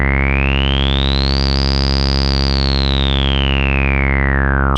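Behringer TD3-MO synth with its guitar effects pedals bypassed, a single loud, steady buzzy tone whose filter slowly opens brighter and then closes again over a few seconds.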